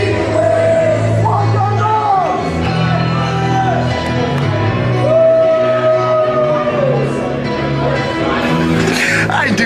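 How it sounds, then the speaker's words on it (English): Wrestling crowd at a PWR event loudly singing a wrestler's entrance song in unison, sustained chanting tones with yells and whoops layered over a full, steady arena roar throughout. "I do get a kick out of hearing the crowd always sing it at every event."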